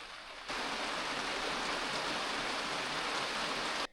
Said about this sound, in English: That's what it sounds like with rain on the foam.